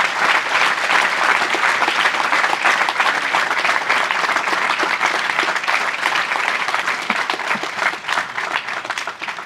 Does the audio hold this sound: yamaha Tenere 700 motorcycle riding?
no